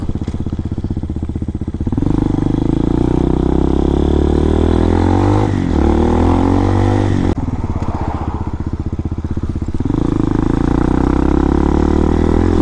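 A 2019 RPS Hawk DLX 250 motorcycle rides country back roads, its steady engine drone loud and close throughout, swelling and easing as it shifts and accelerates, with no voices over it.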